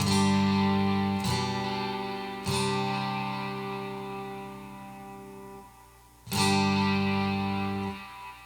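Distorted chords from a Donner Hush I Pro travel guitar ring out alone, struck three times with long sustains that decay between strikes.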